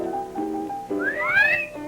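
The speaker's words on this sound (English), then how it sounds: "The hot dogs at our concession stand do rate an appreciative whistle." A person gives an appreciative whistle, a clear rising then falling wolf-whistle-like tone, close and alone after a low sustained tone.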